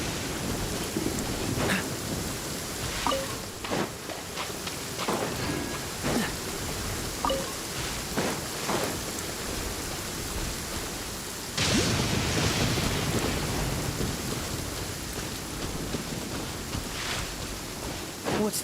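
Rain and rolling thunder from the video game Genshin Impact, a steady hiss of rainfall with scattered cracks and rumbles, growing louder and fuller partway through, heard alone without talk.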